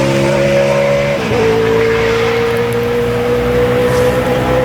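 A NASCAR stock car laps Watkins Glen during qualifying, its loud engine howling close by, then a sharp downshift drops the pitch before it settles into a steady high drone, with no voices.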